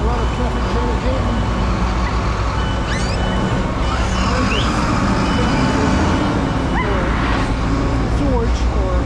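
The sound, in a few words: traffic jam in Bishkek street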